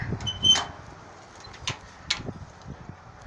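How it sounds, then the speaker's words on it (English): A control box door on a truck bed, fitted with fuses and a screen, opens with a few faint, sharp latch clicks and knocks spread over a few seconds. "door opens up."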